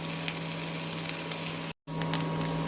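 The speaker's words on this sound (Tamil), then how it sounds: "வெங்காயத்தை ஆட் பண்ணி நல்லா வதக்கிக்கலாம்." Onions sautéing with fennel seeds in a pan for a Tamil chicken fry, a steady close sizzle and crackle running evenly throughout with a brief dropout near the end.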